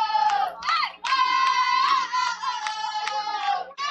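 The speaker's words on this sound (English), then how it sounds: "A lot of cheering going on here for the Lady Tigers in the background" A student section at a high school girls' softball game cheers for the Lady Tigers, voices rising in sustained, sung-out chant-like yells that pause briefly between calls.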